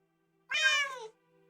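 A single clear cat meow plays alone as a stream-redemption alert during a Kerbal Space Program livestream, rising then falling over about half a second against a faint background hum.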